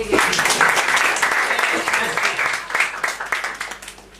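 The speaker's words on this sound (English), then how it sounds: "Please clap from each of us. Come on, once again." Clapping from a small audience at a Toastmasters yoga club meeting, a dense patter of hands mixed with voices talking over it, moderately loud and close.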